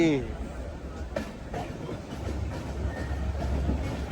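A train on the Visakhapatnam to Araku line rumbles along through hilly monsoon country, a steady low clatter of wheels on rails heard from inside the coach, with a voice talking over it.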